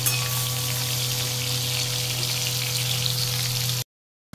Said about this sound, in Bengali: চিংড়ি মাছটাকে আগে ভেজে নিই, অল্প ভাজতে হবে